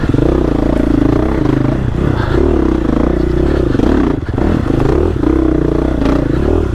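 A 2021 GasGas EX-450F dirt bike engine runs loud and close in first gear with the clutch slipping, giving a steady throaty drone with wavering revs and some mechanical clatter.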